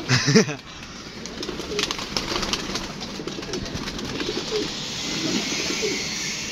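Pigeons coo softly nearby in repeated low, throaty calls against faint background noise, with a brief thump at the start.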